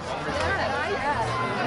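Crowd chatter on the Town Green at the Taste of Cornwall outdoor festival as people pack up for the night, a steady babble of many indistinct voices.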